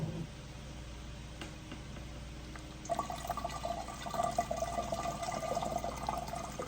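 Milk kefir whey pouring through a strainer, a quiet trickle at first that turns into a fuller, steady liquid stream partway through, close and alone.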